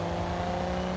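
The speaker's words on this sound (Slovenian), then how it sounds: "Moja nova Alfa Romeo Giulia, kakor jaz vem, tole od Ferrarija motor noter, enih 500 konjev" Steady engine hum from a new Alfa Romeo Giulia fitted with a Ferrari-derived engine of about 500 horsepower, stock and moving slowly, holding a constant near, moderately loud tone with no revving.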